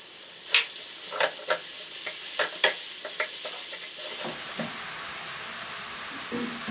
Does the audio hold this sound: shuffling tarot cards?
no